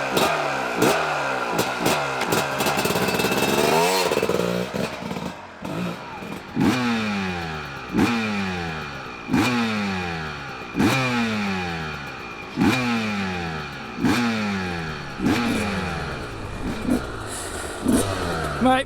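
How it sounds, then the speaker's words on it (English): A factory Honda CR250 two-stroke motocross bike revs hard and close, with a long sustained blast followed by a regular series of sharp throttle blips that rise and fall, loud and raspy. "Fred Bolley, Honda 250."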